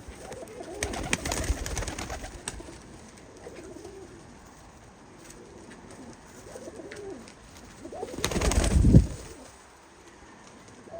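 Domestic pigeons, including Siberian breeds, coo softly in low, rolling murmurs, with a couple of louder bursts of fluttering or bustling noise.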